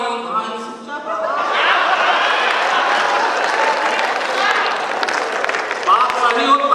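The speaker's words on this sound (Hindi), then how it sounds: "बात सही हो, ताली से समर्थन मिला।" Audience applause and crowd noise at a Hindi kavi sammelan and mushaira poetry gathering, a sustained dense clapping over chatter and laughter lasting several seconds, with a voice emerging near the end.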